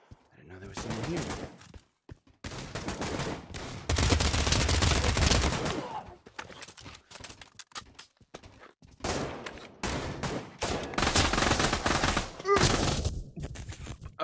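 Gunfire in the VR shooter Pavlov VR comes in loud, dense bursts and rapid volleys with short pauses between them, close and harsh, while a voice talks in between.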